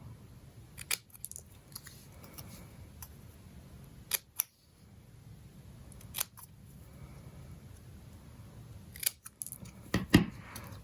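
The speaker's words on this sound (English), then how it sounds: "Just want to cut in a little bit. And then you cut from each corner." Scissors snipping into card paper from each corner of a Stampin' Up Magnolia Lane birthday card, a few sharp close cuts spaced apart over a quiet background.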